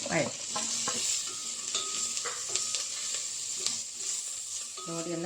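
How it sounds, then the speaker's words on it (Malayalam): Chopped tomato sautéing with spices in a pan for an egg curry, a steady close sizzle with scraping stirs of a spoon against the pan throughout. "ഒരു തക്കാളി ഇട്ടിട്ട് അതും കൂടി ഒന്ന്"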